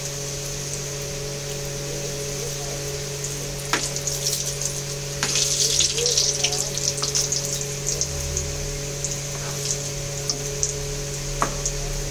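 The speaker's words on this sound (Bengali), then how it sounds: "ওটা আমি একটা একটা করে ছেড়ে দেবো, একটু কম আঁচ করে নেব, হ্যাঁ, ভাজার সময় মিডিয়াম আঁচে।" Steady sizzle of chicken cheese balls frying in oil over medium heat throughout, with occasional crackles and pops, fairly close and moderate in volume, no voices.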